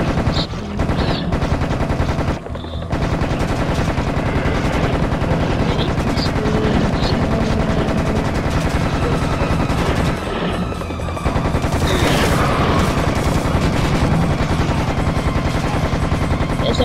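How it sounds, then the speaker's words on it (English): Minigun firing in Serious Sam First Encounter, a dense, loud, continuous stream of rapid shots with only brief gaps. "There's a minigun in this game"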